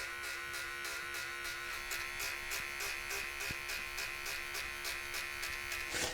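Steady, close electric hair clipper buzz running through a self-done buzz cut, a continuous drone with faint rhythmic pulsing as the blade moves, with no voices over it.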